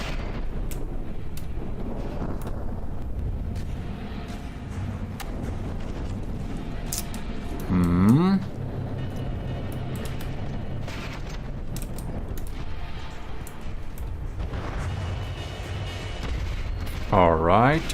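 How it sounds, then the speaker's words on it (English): Mortars firing in the naval combat game From the Depths, heard as dull booming thumps amid a constant rumbling battle din, with two louder whistling bursts standing out, and someone talking over it. "There we got some mortars popping in there too."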